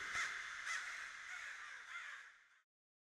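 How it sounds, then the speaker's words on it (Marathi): A flock of crows caws loudly at night over a wild forest, a few harsh overlapping calls in quick succession, then the sound cuts off to silence. "रात्रीच्या वेळी अचानक ह्या रानावर कावळ्यांचा थवा उठतो, जोर जोरात कोकलू लागतो"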